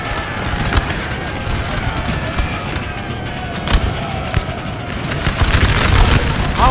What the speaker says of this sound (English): The French have just nailed their artillery shots every time.